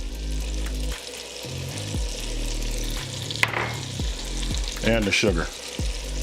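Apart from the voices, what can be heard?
potatoes frying in grease with garlic and onion, stirred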